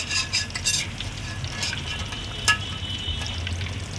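Chicken and paneer combo pieces frying in a pan, a steady close sizzle with occasional stirring scrapes and brief clinks, no voices.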